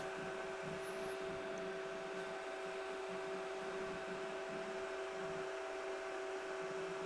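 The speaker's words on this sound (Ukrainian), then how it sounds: "О, запрацював вентилятор." The cooling fan of a LogicPower LPM-PSW-1500VA inverter under a 580 W load whirs continuously with a faint high-pitched electronic whine, a constant mechanical hum with no pauses.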